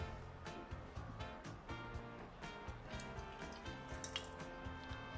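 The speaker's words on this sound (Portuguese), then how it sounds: "vamos colocar água" Water splashes and trickles into a container while a natural sourdough starter is made in a home kitchen, a steady run of dripping and pouring sounds with scattered clinks.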